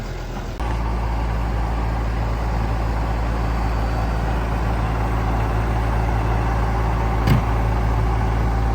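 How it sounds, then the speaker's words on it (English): A tractor engine runs in the bush as it tows an old Mazda Capella, starting with a jump in level and then holding a steady, deep, loud drone, with one brief sharp knock and no talking. "tractor's hooked on. Let's see whether we can tow this out."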